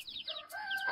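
Chickens cluck and squawk in short, overlapping bursts near a hay-filled coop. The calls are fairly close and moderately loud, with no talk over them.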